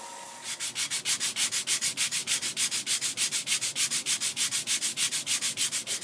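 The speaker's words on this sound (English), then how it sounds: "Now after sanding this to 400 grit" Steady rhythmic sanding by hand, quick regular back-and-forth strokes of sandpaper on wood, close and even, with nothing else heard.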